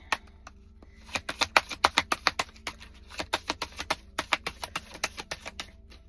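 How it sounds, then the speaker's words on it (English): A deck of tarot cards shuffled by hand, close up and alone: repeated quick riffles of crisp card flicks in bursts, pausing briefly between passes. "I'm gonna shuffle her a little bit more"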